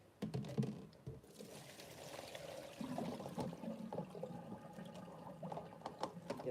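Water poured off a bowl of soaking greens, a steady soft splashing and trickling that runs for several seconds at low volume, with a few small clicks and knocks.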